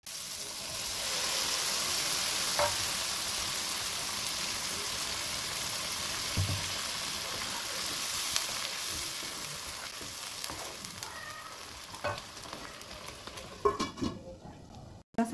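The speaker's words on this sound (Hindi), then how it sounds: "बस इसको अभी फ्राई करेंगे और इसमें प्यूरे ऐड करेंगे" Coriander powder and turmeric fry in a pan for palak paneer, giving a loud, continuous sizzle that slowly fades, with scattered clinks and scrapes of stirring toward the end.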